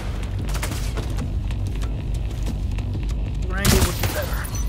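Gunfire in The Division 2: a steady run of fast, dull shots under constant battle noise, capped by one louder, closer blast near the end, with shouted voices throughout.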